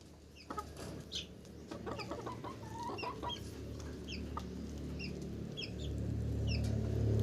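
Hens cluck in short, scattered bursts over a steady low farmyard hum, fairly quiet and somewhat distant.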